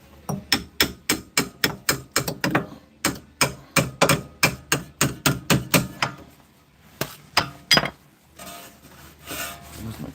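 Metal hammer blows strike a punch while a rear control arm is being fitted on a 2018 Ford Escape: about two dozen sharp, close strikes in steady rhythm, briefly pausing, then a few more before scraping handling noises.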